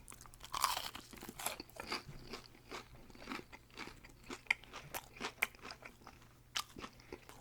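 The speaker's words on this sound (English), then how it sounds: "Oh, this chicken's good. It's crunchy." Close, crisp crunching and chewing of crispy fried chicken from Lee's Famous Recipe, a steady run of bites and crackly chews, with no talking.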